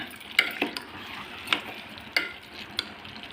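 A spoon stirs turmeric into a pan of mango mutton curry, giving a soft sizzle under five or six distinct scraping clinks spaced about half a second to a second apart.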